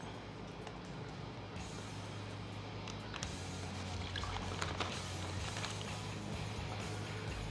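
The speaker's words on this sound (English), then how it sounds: "Now I'm going to pour our marinade right in on top of it." Marinade being poured over fajita meat, a faint, steady liquid trickle and splash over low background hum, with no one talking.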